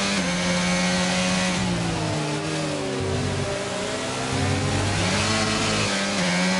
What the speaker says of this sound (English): revving up the engine quite early